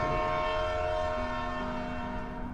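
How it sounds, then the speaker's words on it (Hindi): A train horn blares in a long sustained tone as the train departs, loud and close, with rumbling rail noise beneath, in a scene from the Pandit Vedant series. "हॉर्न बजा और ट्रेन चल पड़ी।"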